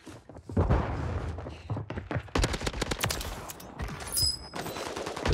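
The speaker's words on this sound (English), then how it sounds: "Hipfire is awesome on this gun!" Rapid automatic gunfire from a gun fired from the hip in a video game, long loud bursts of closely spaced shots with brief gaps, near and dominant throughout.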